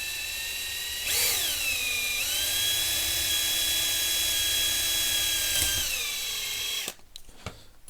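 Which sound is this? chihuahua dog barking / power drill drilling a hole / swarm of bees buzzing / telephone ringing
power drill drilling a hole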